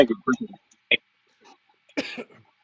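A few short, sharp coughs and throat sounds in quick bursts separated by silence, close to the listener.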